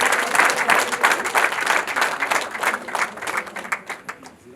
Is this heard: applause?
yes